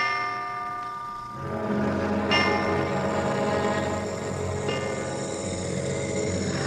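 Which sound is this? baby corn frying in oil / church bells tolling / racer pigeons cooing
church bells tolling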